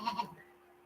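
A farm goat standing at a gate lets out two short, fairly quiet bleats in quick succession, followed by a faint fading tail with no talking.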